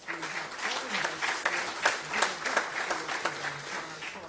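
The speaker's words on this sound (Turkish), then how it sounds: "Onları bir alkışlayalım hep beraber" An audience claps for guests from abroad at the closing of an international ethics summit in Turkey, a steady mid-volume round of hand claps with a voice breaking through now and then.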